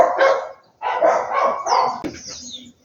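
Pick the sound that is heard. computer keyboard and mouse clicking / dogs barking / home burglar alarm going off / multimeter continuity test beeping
dogs barking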